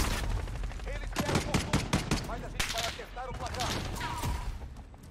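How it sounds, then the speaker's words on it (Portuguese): Gunfire in Call of Duty: Warzone comes as bursts of sharp, rapid shots with scattered single cracks and an irregular rhythm, loud and close, with brief game sounds mixed in. "você viu tanto de tiro que eu acertei"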